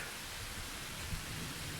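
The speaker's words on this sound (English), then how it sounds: "It's raining out" Steady rain falls in the Farming Simulator 25 game, a soft, even hiss of rain on surfaces with a faint low rumble, quiet and continuous with no talk.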